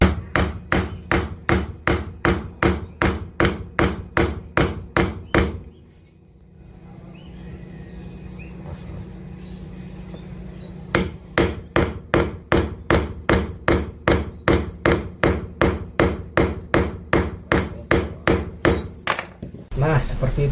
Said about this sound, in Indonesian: Tokok pakai palu guys ya